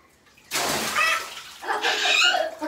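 Ice water is poured onto a hand in two bursts, the first a sudden splashing rush, the second a longer, brighter splatter after a short pause, close and fairly loud.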